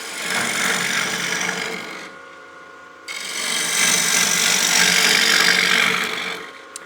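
A bowl gouge roughs out a wooden bowl on a lathe, giving a loud, close, continuous scraping hiss of cutting wood that breaks off for about a second before resuming.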